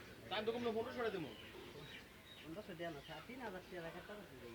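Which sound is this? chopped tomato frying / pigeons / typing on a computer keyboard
pigeons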